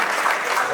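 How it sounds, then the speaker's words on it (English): An audience at a graduation ceremony applauds to welcome a speaker, a brief, dense burst of clapping from many hands, fairly loud and even throughout. "Join me with a warm applause as we welcome Honorable"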